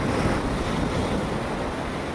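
Sea waves washing in at a river outlet near high tide, a steady broadband roar of surf mixed with wind buffeting the microphone, continuous and fairly loud with no voices.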